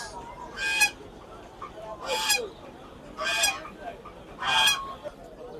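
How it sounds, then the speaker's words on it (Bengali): Four loud, evenly spaced honks come from large domestic geese at a poultry market, with quiet background noise between the calls. "বড় বড় রাজহাঁস দেখুন সাড়ে চার কেজি ওজন"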